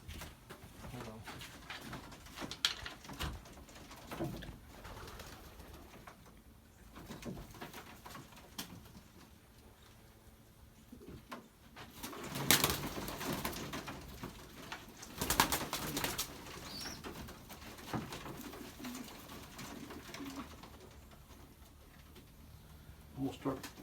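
Pigeons in a crowded family loft coo softly and steadily in the background while someone talks over them, with occasional louder rustles and knocks.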